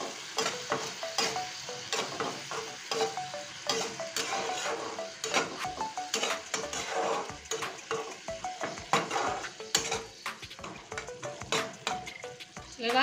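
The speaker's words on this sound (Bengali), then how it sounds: "এখন আমি সুন্দর করে কষতে থাকবো।" Masala spice paste with a little added water sautéing in a pan for a fish curry, a soft continuous sizzle under repeated scraping and stirring clinks of a spoon against the pan, heard close and fairly quiet.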